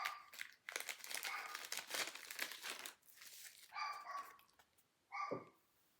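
A card is pulled from a crinkly plastic package, giving several loud bursts of crackling, crinkling plastic separated by short pauses, close up with no talking.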